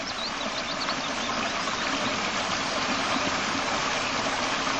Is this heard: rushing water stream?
yes